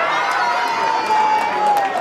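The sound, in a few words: audience applauding and cheering at concert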